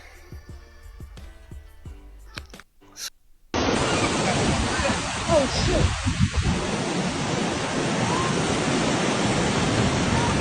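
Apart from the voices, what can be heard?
massive tidal surge waves crashing onto Main Beach, Gold Coast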